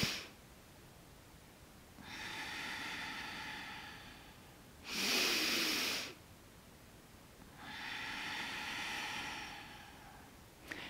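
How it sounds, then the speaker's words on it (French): Deep, slow breaths in a beginner yoga class, heard close and soft, with long hissing inhales and exhales in a steady rhythm. One sharper, brighter exhale sits in the middle and quiet pauses come between breaths. "on va faire 2 dernières respirations à votre rythme"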